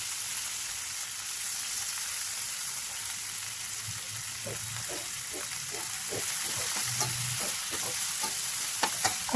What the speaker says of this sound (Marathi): चिरलेला जो पालक आहे तो त्याच्यामध्ये टाकून परतून घ्यायचा आहे